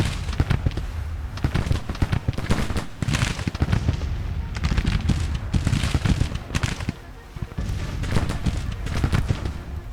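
Volleys of musket fire crackle from a Civil War battle line in Grand Tactician, dense overlapping shots rolling on steadily for the whole stretch, loud and close with a brief faint voice.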